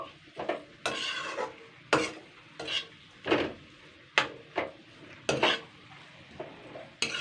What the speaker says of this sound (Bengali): এবার আমি আবারও নাড়াচাড়া করে নেব।